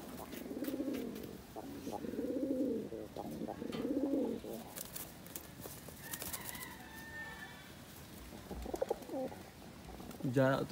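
Kaldom pigeons give repeated rolling coos in regular phrases, near and clear, with brief rustles and a few other bird calls mixed in and quiet talking late on.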